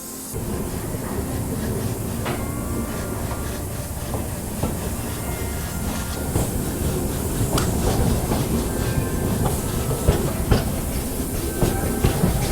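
The Delhi to Katra Jammu Mail passenger train runs along with a steady, loud rumble, rhythmic clickety-clack of wheels over rail joints and metallic rattles throughout, heard from on board without talking.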